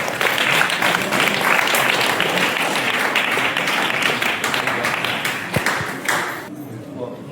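Wedding guests clap together in a dense burst of applause that gradually thins out toward the end, with voices mixed in.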